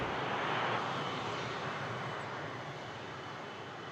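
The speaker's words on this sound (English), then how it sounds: "Next departure is a heavy A330-300 Air Canada." An Air Canada Airbus A330-300 departs Toronto Pearson, its broad jet engine roar steady and fairly distant, slowly fading over a few seconds with no voices.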